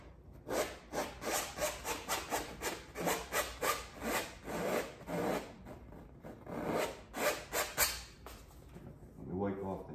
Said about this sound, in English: Remember, scrape that all off.